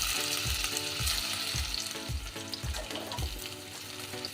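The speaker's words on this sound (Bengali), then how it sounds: "সেদ্ধ আলুগুলো একটু ভেজে নেব।" Boiled potatoes fry in oil in a pan, giving a soft, steady sizzle with repeated low thumps and clinks as they are stirred or turned, fairly quiet and with no voices.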